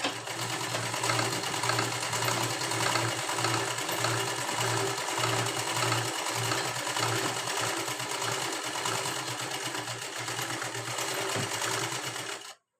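A sewing machine stitches the seams of an unlined princess-cut blouse in a steady, continuous whir that runs close and even for about twelve seconds and then stops abruptly. No one speaks over it.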